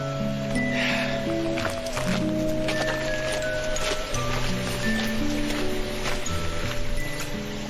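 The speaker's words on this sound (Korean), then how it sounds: "시원하게 떨어지는 폭포수." A waterfall pouring in desert wilderness near the Dead Sea, a steady full rush of falling water running continuously, mixed with a sustained musical tone layer.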